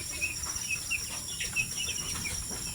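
Broiler chicks in a brooding pen give soft repeated peeping chirps over a constant background hum, steady and moderately close.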